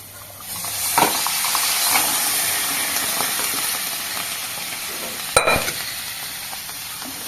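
Boiled potato and peas are stirred into fried spices in a pan, giving a steady hiss and sizzle under soft scraping, with two sharper knocks of the spoon against the pan. Nobody speaks.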